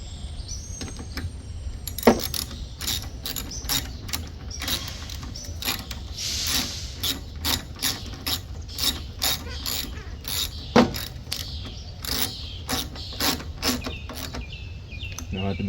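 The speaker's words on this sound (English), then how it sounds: "Get your 8mm socket." Ratchet wrench with an 8mm socket snugging the carburetor bolts on a Craftsman lawn mower, giving a fast run of close, crisp clicking bursts repeated throughout, with brief pauses between strokes and no talk.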